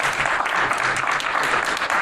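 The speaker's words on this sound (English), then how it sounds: "Give him a clap" Audience applause fills a lecture hall during a community talk, dense and steady clapping from many people, loud and sustained throughout with no voices over it.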